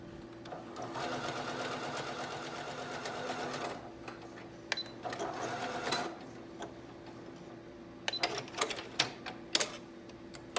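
A sewing machine running a straight stitch at 2.8 stitch length along a coat sleeve, whirring steadily for several seconds, pausing, running again, then giving way to scattered clicks and handling taps.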